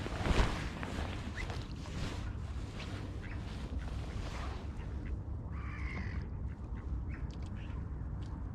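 Ducks quack softly and intermittently while feeding on pieces of sourdough bread on a canal in Amsterdam, a few short calls over steady outdoor water and traffic ambience.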